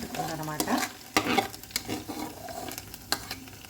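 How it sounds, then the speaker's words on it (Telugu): Urad dal batter is poured into hot oil for a thick breakfast rotti, giving a soft, close sizzle and frying crackle with light stirring and scraping. "ఈ పిండిని ఇలాగా ఇందులోకి వేసేసుకోవాలన్నమాట నూనె బాగా వేడెక్కిన తర్వాత మాత్రమే వేయాలండి"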